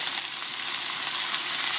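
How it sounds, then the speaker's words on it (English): Loud, steady sizzling of shrimp stir-frying in a hot cast iron pan, a continuous crackling hiss up close. "Always love the sound of the sizzle of something stir frying in a cast iron pan."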